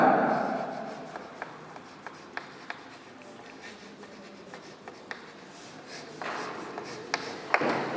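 Pen writing out given data for a two-wheeler vehicle problem in an engineering lecture, a soft continuous scratching on paper with small taps at the stroke ends, close and quiet, with no talk.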